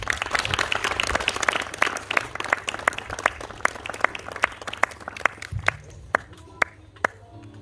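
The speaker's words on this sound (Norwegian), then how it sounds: "Og så tenker jeg en til applaus for gjengen her," A crowd at a band concert applauds steadily, then the clapping thins out to a handful of sharp, isolated claps near the end.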